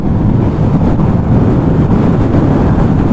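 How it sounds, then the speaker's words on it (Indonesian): Steady, loud wind roars and buffets against the microphone while riding a Yamaha Y15ZR motorcycle, a dense low rumble with no voices. "Oh, angin kuat."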